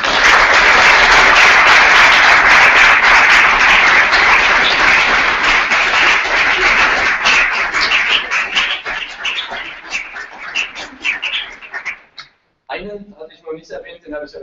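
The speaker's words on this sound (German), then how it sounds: "ganz großen Applaus" A lecture audience at a talk on the Latin American boom gives loud, sustained applause that fills most of the stretch, then thins into scattered claps and fades, with a voice speaking briefly at the end.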